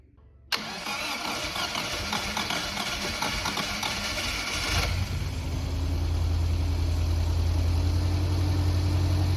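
A Scamp engine with the choke pulled cranks and catches, then runs at a fast, steady, loud idle close by, with no talking over it.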